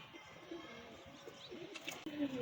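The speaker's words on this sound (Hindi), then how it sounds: "ये डोले कबूतर भी देखे, गोले कबूतर" Several pet pigeons coo in low, soft, repeated calls at close range, with faint bird chirps layered over the background noise.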